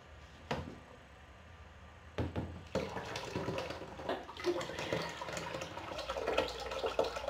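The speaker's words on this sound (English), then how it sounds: "Alright, so then we pour it in the mold." Wet paper pulp pours and splashes into a papermaking mold, a sloshing, gurgling rush of liquid with a few sharp knocks beforehand, moderately close and quiet, with no talking.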